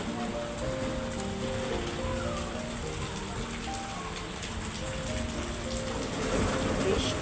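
Steady rain falls on surfaces outdoors, a constant hiss with a few faint tonal sounds mixed in, no clear speech.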